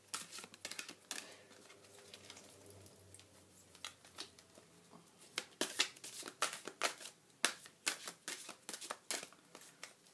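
A deck of soul coaching oracle cards is shuffled and drawn by hand, giving quiet, close, irregular riffling and flicking with bursts of crisp taps, faint and without talk.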